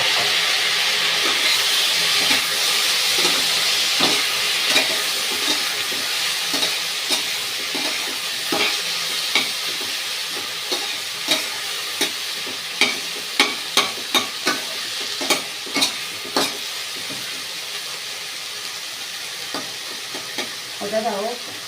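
Diced eggplant coated in turmeric and salt frying in a pan, a steady loud hiss of oil running throughout with a cluster of sharp clicking stirs and pops midway; no talking.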